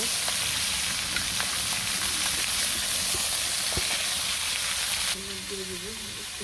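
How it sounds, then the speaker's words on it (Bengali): A fish head fries in a pan with a steady, loud, close sizzle that lasts throughout and drops slightly near the end, when a faint tonal sound appears. "মাছ মাথাটা ভালো করে ভাজা হয়ে গেছে"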